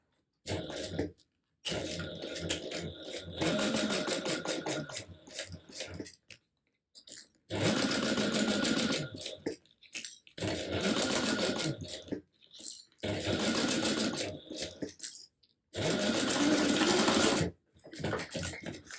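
A sewing machine stitches a quarter-inch seam across the bottom of a fabric pouch, running loud and close in several long bursts of rapid whirring, broken by short pauses.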